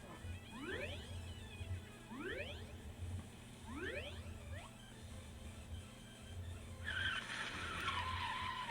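Tires skid repeatedly during an auto race in a visual novel game, sharp rising squeals arriving in regular bursts over a steady engine hum, ending in a louder noisy rush.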